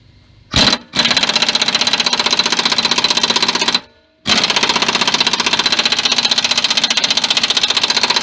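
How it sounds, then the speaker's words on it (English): An impact wrench with a 1 1/8 inch socket hammers at a mower blade nut on a Cub Cadet Super LT 1554 deck, firing in a short burst and then two long, loud, steady rattling runs with a brief pause between them. "the easiest thing is to use an impact"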